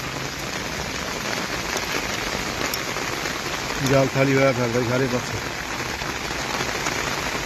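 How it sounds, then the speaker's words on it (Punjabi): Steady rain pours down on a farm, a dense, even hiss of drops on surfaces throughout, with someone speaking briefly partway through. "ਕੱਲ ਤਾਂ 3 ਘੰਟੇ ਲਗਾਤਾਰ ਮੀਂਹ ਪਿਆ ਜੀ ਪਾਣੀ ਪਾਣੀ ਹੋ ਗਿਆ ਜੀ ਅੱਜ ਸਵੇਰ ਫੇਰ ਆਈ ਆ"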